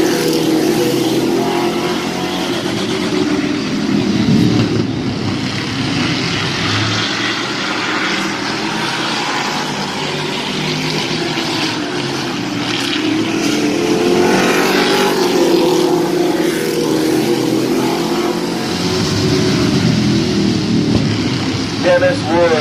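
Street stock race cars roar around the Midvale Speedway track during a heat race. Their engines swell and fade as they pass, under continuous loud commentary from an announcer.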